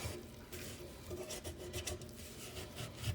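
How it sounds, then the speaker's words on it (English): A nickel scrapes at the rim of a garbage disposal flange, making a quiet, continuous rasping rub that comes close and fairly faint, with no talking. "But you can get something like a nickel or something to give it a little scraping"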